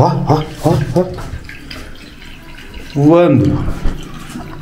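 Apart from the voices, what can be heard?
water running from a tap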